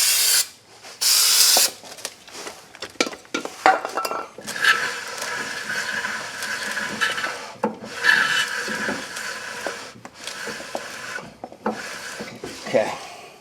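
Brake cleaner sprays onto the rear brake parts of a 2008 Hyundai Elantra in short, sharp hissing bursts, mixed with close rubbing and clinking of parts.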